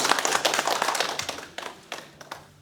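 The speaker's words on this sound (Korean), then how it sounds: "자, 박수 한번 치겠습니다." A small group in a church education class claps after a gift is handed out, with sharp, uneven individual claps close by that thin out and taper into scattered hits toward the end.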